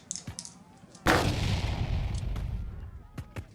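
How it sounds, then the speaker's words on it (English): Artillery fire effect from the Pub Battles Brandywine board game, a sudden loud cannon blast that rumbles and rolls on, with a few quieter sharp reports before and after it. "Knox's artillery goes first"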